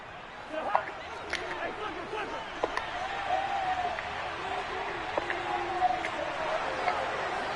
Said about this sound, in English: Shut up, crowd.